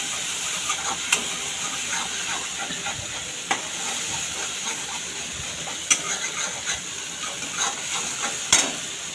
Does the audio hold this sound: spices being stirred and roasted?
yes